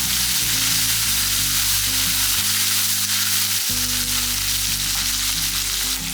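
Cleaned pirandai (adamant creeper) sautéing in a pan for a thuvaiyal, a steady loud sizzle that runs throughout with low clanks and scraping of stirring, and no talk.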